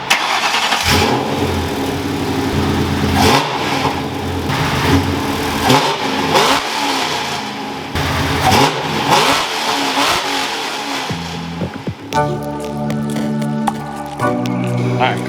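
Crown Victoria drift car engine revving and accelerating repeatedly in bursts, loud and close, with a steady broadband rumble; a shift to a different tonal, music-like sound near the end, and someone talking over parts of it.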